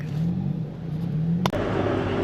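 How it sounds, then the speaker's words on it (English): Bangkok road traffic hums with a steady engine drone and the whir of passing cars, then a sharp click gives way to a closer, slightly louder rumble of vehicle noise. "Enjoy some traffic."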